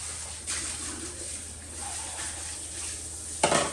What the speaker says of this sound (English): I'm rinsing out my stuff.